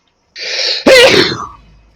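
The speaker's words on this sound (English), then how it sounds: "I'm going to sneeze." A single loud, close sneeze with a sharp burst after a brief inhaled build-up, trailing off quickly.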